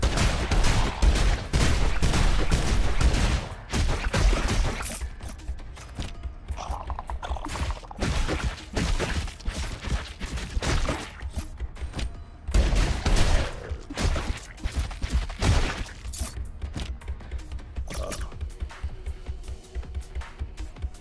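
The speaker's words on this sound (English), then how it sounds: "Gonna use a shotgun for a bit." Repeated shotgun blasts in a space shooter game, heavy booming shots in quick irregular bursts with mechanical reload clacks and ratcheting between, loud and close with no talking.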